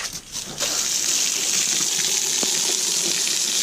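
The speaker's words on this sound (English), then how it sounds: "Give them a good hose down." Steady rushing spray of water from a hose rinsing down vehicle tires, a continuous broadband hiss that starts after a brief quieter moment and holds loud and even throughout.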